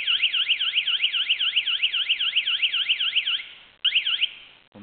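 A Tike Sécurité MN2009 opening detector, its casing opened, sounds its tamper alarm: a loud, steady warbling electronic tone sweeping up and down, running alone, briefly cutting out, then resuming before stopping.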